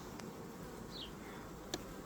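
Low, steady hum of honeybees massing on a hive frame of a young swarm, faint and continuous, with a brief nearer buzz of a single bee passing and a couple of soft clicks.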